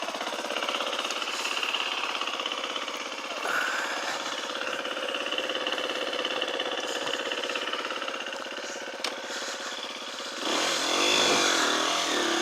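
A motorcycle ridden along a path, its engine a continuous buzzing drone with a steady mechanical pulse that swells louder near the end, with no voices.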